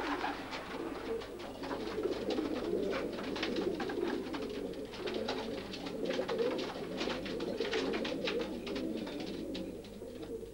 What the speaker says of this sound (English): He's a pigeon fancier, and his pigeons are racing pigeons.